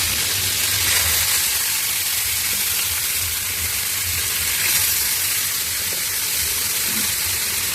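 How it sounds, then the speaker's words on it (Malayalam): Chicken pieces fry in hot oil in a pan, giving a steady, loud, bright sizzle and hiss that holds throughout with no talk. "എണ്ണ ഒഴിച്ചിട്ട് ചൂടായി കഴിഞ്ഞാൽ നമുക്കിതൊന്ന് കുറേശ്ശെ ചിക്കൻ മാത്രം എടുത്തിട്ട് ആദ്യം ഫ്രൈ ചെയ്യാം"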